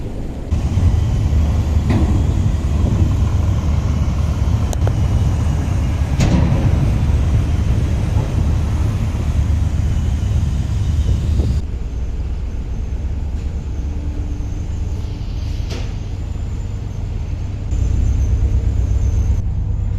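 Ferry crossing from Lanzarote to Fuerteventura, its engines giving a loud, steady low rumble and drone that drops in level partway through and then swells again near the end, with no voices.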